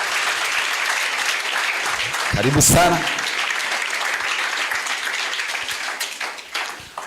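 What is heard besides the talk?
congregation applauding the reverend entering church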